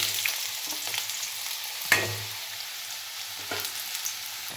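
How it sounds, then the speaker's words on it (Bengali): Cut potatoes frying in hot white oil with a little turmeric, a continuous close sizzle with soft scraping stirs and one louder knock of a spoon on the pan. "খুব ভালোভাবে আলুগুলো ভেজে নেব"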